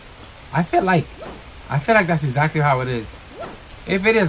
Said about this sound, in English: Oh, starting to rain.